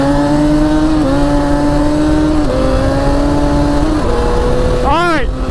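ATV or dirt bike engine revving hard and climbing through the gears toward top speed, loud and close, with the pitch rising and dropping back at each shift and a final sharp rev flourish at the end.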